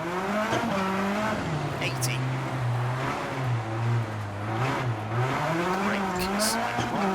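A rally car in the WRC video game on a Monaco stage snarls as the throttle is worked, the engine note climbing and dropping with gear changes and brief tire skids, loud and close, while a co-driver calls notes.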